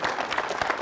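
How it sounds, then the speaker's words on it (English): A studio audience claps in a brief burst of dense, steady applause, fairly loud and close, with no voices standing out. "that definitely deserves a round of applause."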